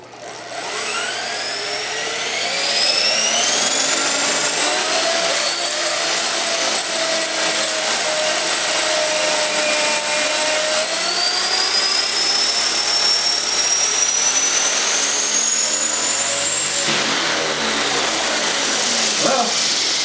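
A Hobbyking HK450 electric RC helicopter, a T-Rex 450 clone, spools up its rotor: a loud, close whine climbs steadily in pitch and holds as a sustained buzzing drone with mechanical rattle underneath.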